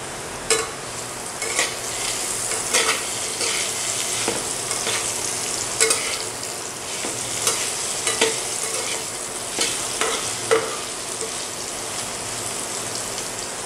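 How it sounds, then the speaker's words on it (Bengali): Salted potatoes frying in a pan, with a constant crackling sizzle and regular scraping stirs every second or so, close and moderately loud, with no speech. "আলুটা পুরোপুরি ভাজা হয়ে গেছে, ইভেন একটু বেশি হয়ে গেছে মনে হচ্ছে"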